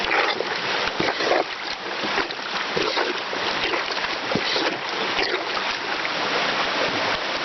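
Plunger-style hand washing tool sloshing and sucking clothes through water, a steady busy wet swishing and splashing close up throughout.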